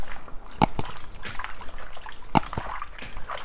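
Ingredients for strawberry chin chin are rinsed in salted water, with sloshing, trickling and dripping sounds and two sharp splashes or knocks, close by.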